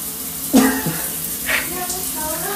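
Shower water runs steadily in a home bathroom as a broad, even hiss, with a couple of brief louder vocal-like sounds rising over it.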